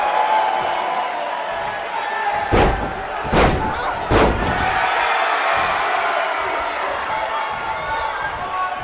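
Body slams in a wrestling video game match between Robin and Harley Quinn, three heavy thuds in quick succession over a steady roaring crowd, with a commentator talking.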